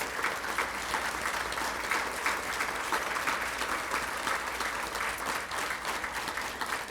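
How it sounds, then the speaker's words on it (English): A large audience at a school district State of the District event gives sustained applause, a dense, even wash of clapping that holds steady throughout without fading. "Please give them a round of applause"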